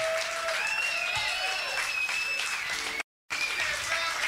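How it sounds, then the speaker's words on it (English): Audience applause at a blues music show fills the space with steady clapping at a moderate distance, broken by a sudden brief dropout before resuming. "Give yourselves a nice round of applause."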